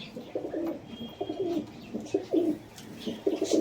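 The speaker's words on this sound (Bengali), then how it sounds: "কালপেটিয়া পায়রা বলে এগুলোকে, দেশি পায়রা, দেশি হাই ফ্লায়ার।" Domestic high-flyer pigeons coo close by in a series of soft, throaty, repeated phrases, with no talking.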